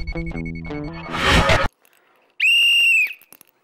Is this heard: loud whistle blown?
yes